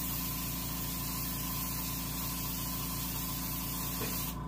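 Base coat sealer hisses from a sprayer onto a taxidermy largemouth bass in one steady, continuous stream, with a low pump hum beneath that cuts off at the very end.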